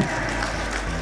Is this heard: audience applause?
yes